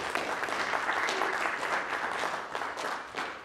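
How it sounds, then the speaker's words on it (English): Moderate applause from an audience at a university speech and debate event, uneven clapping with a few sharper individual claps, sustained for a few seconds without speech. "So let's give them a round of applause."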